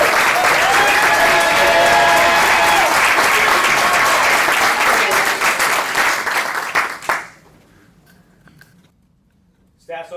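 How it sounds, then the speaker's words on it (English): Sustained crowd applause for graduates at an Air Force Airman Leadership School graduation ceremony, loud and dense for about seven seconds before tapering off into near silence. "Please join me for one more round of applause for all of our graduates."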